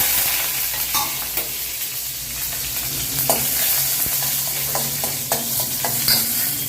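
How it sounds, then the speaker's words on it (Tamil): Mustard seeds and curry leaves frying in hot oil give a continuous close sizzle, with spatula stirring strokes and light clinks scattered over it. "கடுகு போடுறேன்."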